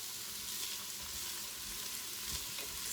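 Vegetables sauté in a pan for chicken and wild rice soup, giving a soft, even, continuous sizzle heard up close with no talking.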